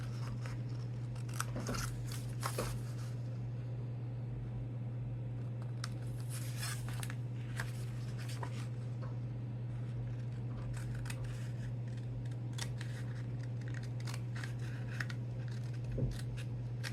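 Scissors snipping off the two bottom corners of a junk journal cover, heard as a run of crisp cuts and snips close up with paper rustling, over a steady low electrical hum.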